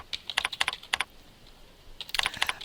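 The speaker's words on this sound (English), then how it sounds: "Here you type in the information" Fingers typing on a computer keyboard, recorded close: two quick bursts of crisp clicking keystrokes separated by a short pause.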